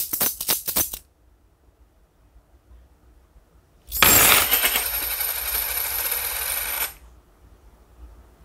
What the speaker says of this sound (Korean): 동전이 튕겨 나갔잖아